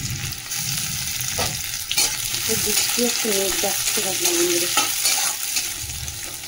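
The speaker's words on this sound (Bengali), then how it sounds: "পেঁয়াজটা ভাজা হচ্ছে।" Onions fry in oil with a steady, close sizzle alongside dried red chilli and five-spice seasoning for dal, broken by a few clinks and stirring scrapes while a person talks over it.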